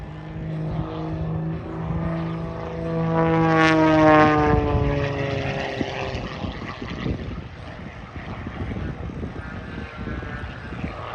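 An aerobatic propeller airplane drones nearby during rolls and an end-over-end tumble at Oshkosh 2023, its engine pitch rising and falling as it climbs and turns, growing louder midway then settling into a steady roar.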